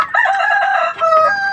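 Chickens crow loudly and close in two drawn-out rooster calls, one after the other, with no talking over them.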